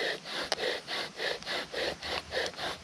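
A wooden spindle is driven back and forth into a fireboard, giving a rhythmic, close friction rasp of about eight even strokes in under three seconds, with no other sound.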